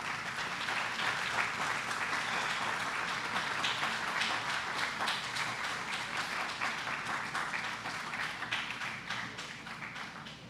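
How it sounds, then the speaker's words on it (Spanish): A church congregation at a Sunday worship service applauds in a dense, sustained wash of many clapping hands that carries on for about ten seconds, fading slightly at the end. "Dale una ofrenda de palmas a Dios"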